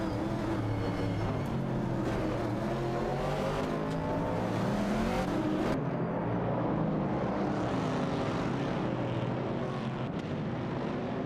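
Video game race cars, a Dodge Challenger and an AMC Javelin 70, drone and roar continuously in a close battle, engine tones rising and shifting as they accelerate and pass, with no talk.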